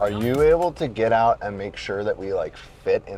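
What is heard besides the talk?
No distinct noise like a dog, phone or traffic.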